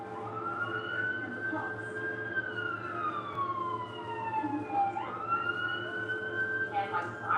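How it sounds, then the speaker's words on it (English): Police sirens wail in the background, their pitch sweeping slowly up and down over a low traffic rumble at a moderate distance, with voices faintly present. "And like sirens in the background."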